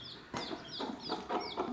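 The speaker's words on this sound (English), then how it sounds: "Oh, preserve me from chickens" A few soft, close chicken clucks come in short separate bursts against a quiet farmyard background.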